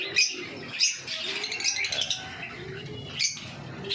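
Pet kuragon birds and their chicks in a home setting, giving several sharp chirps and short squawks with rustling between, close and moderately loud.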